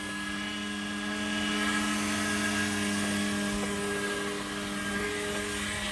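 The fuel pump of a Volvo 740 hums steadily in a scrapyard, a continuous whining drone with a fixed pitch that holds unchanged throughout, close and fairly loud, with no speech over it.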